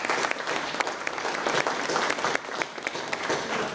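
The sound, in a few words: audience round of applause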